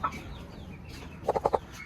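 Hen clucking among chicks in a backyard coop, a short burst of four quick clucks close by after a quieter stretch of faint bird calls.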